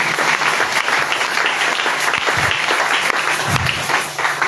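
A church congregation bursts into loud, sustained applause, a dense wash of clapping hands from many people filling the hall throughout.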